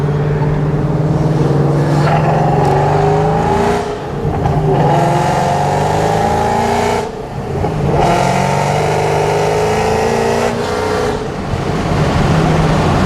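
A Ford GT500 with a Borla ATAK exhaust revs steadily, its loud, raspy engine note climbing through the RPMs in repeated pulls with short dips between them, close and continuous.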